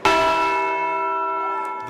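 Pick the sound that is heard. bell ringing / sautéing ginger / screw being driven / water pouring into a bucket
bell ringing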